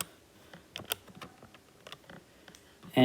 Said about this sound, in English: Then we'll type that into our calculator.